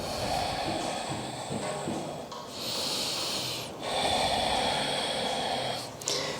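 Slow, deep yoga breaths are drawn in and pushed out through the nose, alternating inhales and exhales in a steady rhythm, close to the microphone with no talking.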